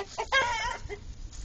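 Chickens cluck and squawk in a short burst near a backyard coop, a loud rooster-like call rising briefly before softer fowl noises trail off.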